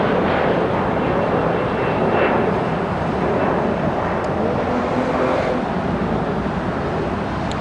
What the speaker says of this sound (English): Air France 24 coming in